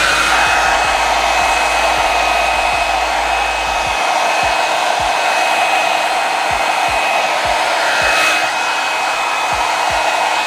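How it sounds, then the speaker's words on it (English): A hair dryer blows loudly and steadily with a constant whooshing hiss and faint whine, running without pause the whole time. "I'm gonna take my dryer."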